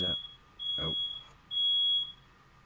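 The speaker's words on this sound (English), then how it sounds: "Let me go check the smoke alarm." A smoke alarm gives three short high-pitched chirping beeps spaced about half a second apart, fairly close and clear in a quiet room.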